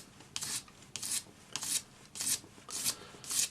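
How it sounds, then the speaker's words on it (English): A ring is sanded with 400 grit paper on a sanding stick, following its curve. Six evenly spaced, soft rasping strokes, close and quiet, with brief pauses between them. "400 grade paper on a sanding stick, and follow the curve of the ring."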